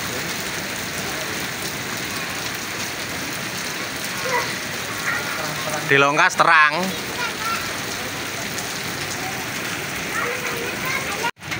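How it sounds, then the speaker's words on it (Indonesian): Light drizzling rain falling outdoors at a market, a steady hiss of drops throughout with a person talking briefly in the middle and a short clunk at the end. "Masih gerimis ya ini teman-teman."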